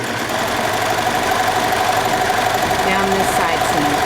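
A sewing machine runs steadily while stitching the side seam of a dress, a continuous close mechanical hum and rapid chatter, loud and unbroken.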